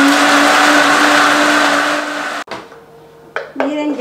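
A blender grinds adobo sauce for steamed chicken, a loud dense whir running steadily for two seconds before cutting off, followed by brief quieter restarts and motor whines.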